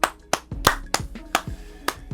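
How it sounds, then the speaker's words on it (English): Hand claps in a quick, uneven series of about eight sharp, close, loud smacks spaced roughly a quarter-second apart, with no talking in between. "Clap it up."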